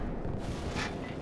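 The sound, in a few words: cannon shot and explosion in Call of Duty 4 video game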